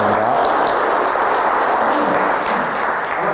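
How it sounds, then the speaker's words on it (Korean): At a Smart Management Forum breakfast lecture in Korea, the audience gives a loud, full burst of applause for the lecturing professor, a thick continuous clatter of many hands close by. "박수 한번 부탁드립니다."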